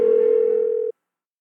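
A phone ringback tone in Persona 4 Golden, a single steady electronic tone held for just under a second, close and clear, then abrupt silence with no answer.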